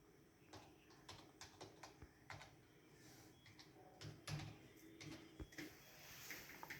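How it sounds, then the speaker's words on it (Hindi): Faint, irregular clicks of a computer keyboard as a password is typed, scattered taps and small bursts at close range against a quiet room hiss. "कीबोर्ड की मदद से आपने पासवर्ड लिखना है"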